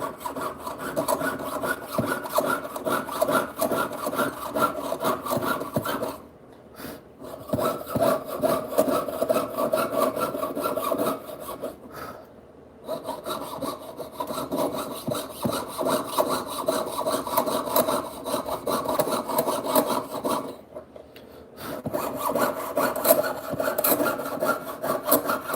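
Jeweler's saw piercing a silver stamping by hand, close and rhythmic rasping strokes in steady runs with a few short pauses, no talking.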